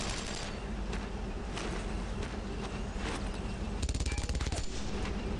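Rapid, sustained machine-gun bursts in the World War II shooter Brothers in Arms: Road to Hill 30, a dense rattle of automatic fire over a noisy battlefield bed, intensifying into a sharp close burst near the end.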